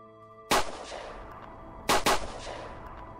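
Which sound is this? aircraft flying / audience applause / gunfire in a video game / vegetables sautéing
gunfire in a video game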